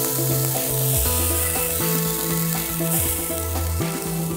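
Venison medallions frying in a pan: a steady, close sizzling hiss that never stops, laid over a rhythmic, stepping background melody.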